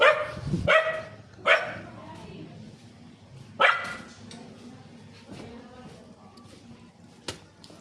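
Village dogs bark in a few sharp, separated bursts, fairly close and loud, with quieter yips and background sounds between them.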